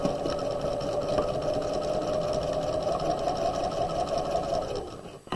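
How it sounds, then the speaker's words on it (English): A sewing machine stitches steadily across the bottom of a fabric tote bag lining, a close, even mechanical whir running unbroken for about five seconds before stopping abruptly. "We're going to sew across the bottom of the bag for about 4 inches."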